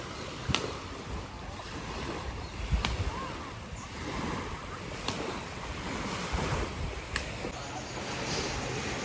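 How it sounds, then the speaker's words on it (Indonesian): Strong wind sweeps a beach at Cambai Resort in Lampung, a steady close roar of gusts and buffeting mixed with surf that holds for the whole stretch, with a few sharper thumps. "Anginnya cukup kencang juga sih kalau mau main kano ini."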